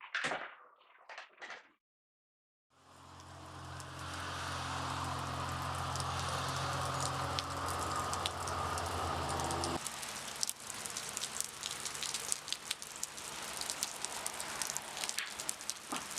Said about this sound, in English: it's going to be one of those wonderful, gloomy, rainy days. It's supposed to rain all day.